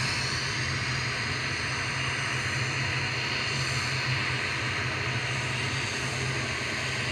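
An Etihad Boeing 777 crossing runway 23R at Manchester Airport makes a steady, broad jet roar that holds evenly throughout, distant but loud and continuous, with no voices over it.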